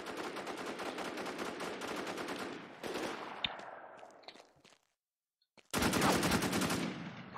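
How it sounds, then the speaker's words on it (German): AK rifle gunfire in the online shooter War Inc. Battlezone, long loud automatic bursts of rapid shots, a short pause and scattered single shots, then another sustained burst. "Ha, mit der AK, da hat der Langeweile genutzt."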